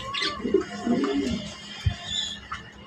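Pigeons for sale coo softly and intermittently at close range, a few low throaty calls over faint background noise, no talking.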